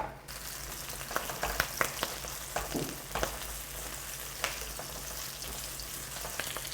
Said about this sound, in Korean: 여기 들어간 채소들이 갈색이 되기까지 계속 여기서 익혀주시면 됩니다.